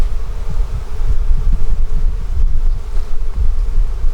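Loud, dense buzzing of many honey bees up close, a continuous low hum with rough, fluttering texture and no talking.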